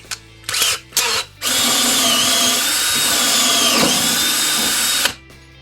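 A DeWALT DCD734 14.4 V cordless drill with a 10 mm bit whirs in two short bursts, then runs steadily for about four seconds at close range, its pitch dipping slightly under load before stopping.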